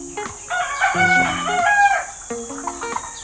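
A Spangled White Kelso rooster, half Kelso and half Hatch gamefowl, crows loudly and close, its harmonic call rising and wavering, then breaking into shorter clucking notes.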